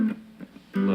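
Rock lead guitar plays a short phrase landing on a low G, with quick picked notes that swell into a sustained tone at the end, alone and close.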